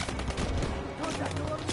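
Rapid bursts of gunfire from the Call of Duty WWII video game crackle close and loud in quick succession, dense and continuous across the moment, with a voice talking faintly underneath.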